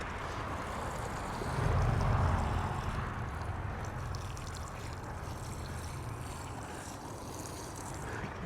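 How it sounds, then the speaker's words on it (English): Water poured onto newly planted strawberries in a hanging gutter, a steady, fairly close splashing stream with a fuller surge early on and no talk. "So I'm going to water these guys in right now."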